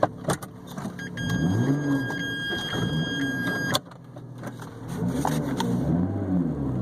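A 2012 Lotus Evora with a manual gearbox is driven at close range, its engine rising and falling through revs, with a steady electronic seatbelt beep ringing over the first few seconds.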